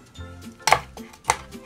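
A kitchen knife cuts off a salmon bone on a board, producing two firm, close chopping knocks a little over half a second apart, with faint handling sounds between them.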